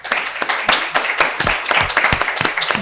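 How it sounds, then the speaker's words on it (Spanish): Audience clapping at a morning panel event on sustainable architecture, a loud, dense round of applause from a crowd in a room, steady throughout. "Por favor, un fuerte aplauso para quienes nos acompañan esta mañana."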